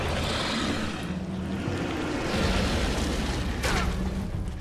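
Grenade blasts in The Sinking City give a dense, continuous low rumble with a loud burst at mid-clip and a sharp crack near the end.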